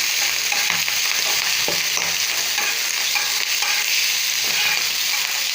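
Oil spread across a hot iron dosa griddle, giving a steady, close hiss and crackle that runs unbroken with no voices.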